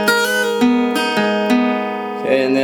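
A guitar riff from a song, played as an acoustic tutorial with picked notes and a hammer-on pull-off, loud and close, with notes ringing into each other in a quick, steady pattern.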